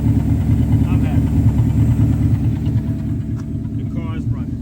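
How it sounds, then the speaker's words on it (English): A 1984 Mercedes 500SEC engine idles after a repair for a rough idle and stalling. It holds a steady, loud, low rumble close by that eases slightly toward the end, with faint higher clatter. "The car is running."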